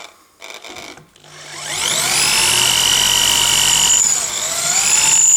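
A drill bores a hole in a car's plastic grill, spinning up with a rising whine into a sustained high-pitched whir that wavers slightly as pressure changes, close and loud, with no talking.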